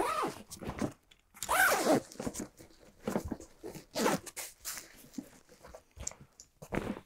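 A zipper on a Pentagon Kyler 20 backpack is pulled open in several uneven, scratchy strokes up close, mixed with soft fabric handling noises.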